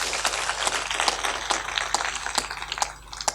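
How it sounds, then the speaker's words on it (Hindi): Audience clapping to honor a guest at a spiritual gathering, a brief burst of scattered, uneven claps over a steady low hum. "ताली बजा दो सम्मान में।"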